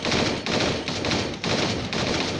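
Bursts of rapid automatic gunfire in a video game, three or four close, loud volleys separated by brief gaps.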